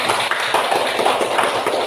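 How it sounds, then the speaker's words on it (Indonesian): Classroom students clap together for a classmate named Lukas, a dense, steady patter of many hands held at an even level for about two seconds. "tepuk tangan dulu untuk Lukas."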